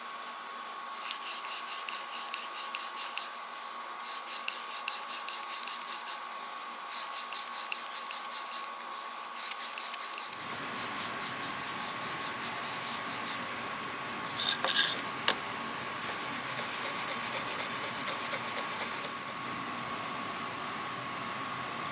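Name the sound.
rubbing metal screwdriver with super fine gray abrasive pad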